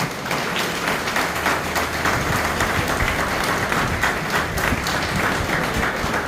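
An audience at a swearing-in ceremony for a community association's president claps steadily and densely throughout, with a faint murmur of the crowd beneath.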